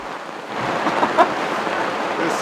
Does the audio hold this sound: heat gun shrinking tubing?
no